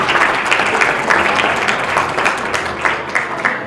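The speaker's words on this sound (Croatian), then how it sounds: "Jedan veliki, veliki aplauz" A large audience applauds a well-known actress at a stage event, sustained dense clapping filling the room at steady loudness with no speech over it.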